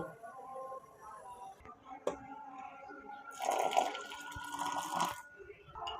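Strong, dark tea liquor for a Sylheti-style milk tea is poured into cups in two short, splashing streams midway through, after a quiet stretch with a few light clinks.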